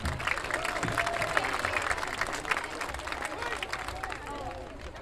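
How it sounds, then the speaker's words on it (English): A crowd at a high school football game's senior recognition applauds and cheers steadily for senior Ethan Garrett, with scattered voices and outdoor ambience mixed in. "Ladies and gentlemen, please give a round of applause for"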